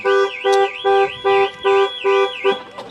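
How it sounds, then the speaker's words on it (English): A Range Rover car alarm blares nearby in a rapid repeating pattern of about seven loud warbling electronic tones, evenly spaced with short gaps. "The alarm works."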